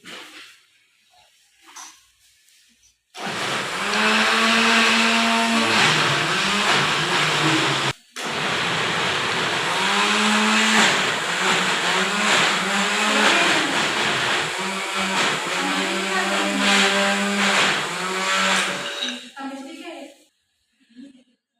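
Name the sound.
blender blending seaweed for seaweed crackers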